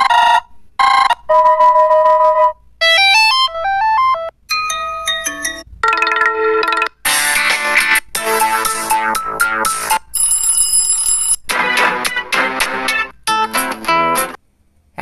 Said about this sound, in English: in this time i can choose this facebook messenger ringtone